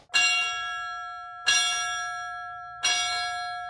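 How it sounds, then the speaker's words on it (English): A fire department bell tolls three times for a fallen fire chief, each clear metallic strike ringing out and decaying slowly before the next, evenly spaced and alone. "as the bell tolled 3 times for the fallen chief"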